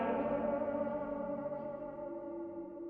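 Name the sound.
Song playing from a car radio in the video game Fallout 3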